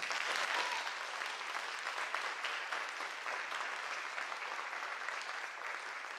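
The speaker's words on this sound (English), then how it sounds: "please give her a big round of applause" An audience applauds at a senior piano recital, a dense, even crowd of clapping heard from a distance at low volume, holding steady throughout and easing slightly toward the end.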